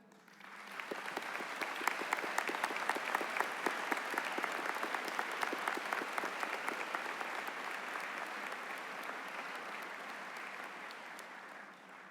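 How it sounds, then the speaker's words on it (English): A large audience applauds at a high school graduation ceremony: steady, dense clapping that swells within the first second, holds strong for about ten seconds, then begins to thin toward the end. "Join me in applauding them."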